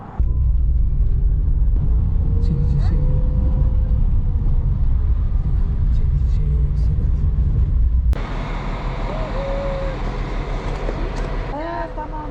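Road traffic crowded with tour buses at the almond blossom festival in Palamutbükü, Datça: a loud, continuous low engine rumble fills the scene, then shifts to a thinner, more distant traffic hum, with voices talking over it.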